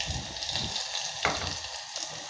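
Ground cumin, mustard seeds and crushed garlic fry in a pan for a Marathwada ambil drink, giving a steady broadband sizzle with a brief sharper crackle partway through, close and moderately loud, with no talking.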